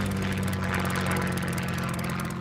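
A helicopter flies ahead of an attack, its steady engine drone and rotor hum holding level and close for a couple of seconds before a sudden sharp burst at the very end.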